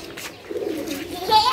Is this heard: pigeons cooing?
yes